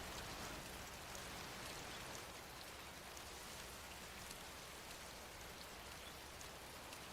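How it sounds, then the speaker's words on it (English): Steady, dense rain falling in the Metal Gear Solid 3 video game, a continuous even hiss throughout with no voices. "oh, it started raining."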